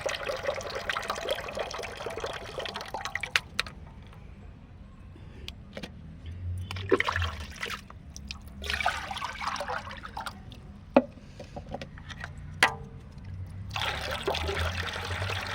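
Used tea leaves are rinsed with water again and again, with running and trickling water in bursts and pauses, fairly close and moderately loud, with some handling clatter between rinses.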